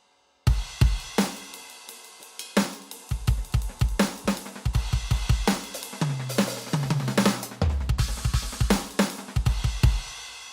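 An electronic drum pattern from a Roland VAD-506 electronic drum kit plays loudly, with kick and snare hits and cymbal crashes washing over the beat, including a short tonal fill midway.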